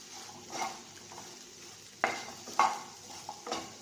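Brinjal and okra sautéing in a pan, a quiet sizzle broken by a few sharp scrapes and clinks of a spoon stirring against the metal.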